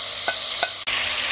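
A spoon stirs tomatoes, salt and red pepper with onions in a cooking pot, giving two light scraping taps and a soft knock over a steady, quiet sizzle.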